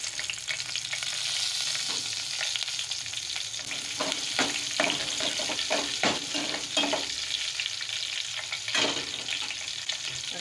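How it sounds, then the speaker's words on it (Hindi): Green chillies and cumin fry in hot oil in a pan, a steady loud sizzle with scattered crackles and stirring clatter, close and continuous with no talk. "मैं इसमें साथ ही डालूंगी हरी मिर्चें ताकि ये भी थोड़ी सी फ्राई हो जाए"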